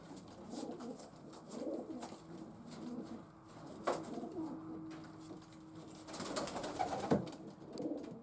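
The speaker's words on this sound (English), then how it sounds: "Some lovely pigeons." Racing pigeons coo softly and steadily in a loft, layered low murmuring calls with occasional rustles and wing shuffles from the birds nearby.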